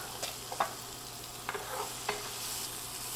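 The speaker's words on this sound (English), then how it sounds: "my butter is sizzling. I'm going to add, this is half of a yellow onion" Soft, steady sizzling of diced yellow onion in butter in a pan, with a few light clicks of stirring, fairly quiet and with no talking.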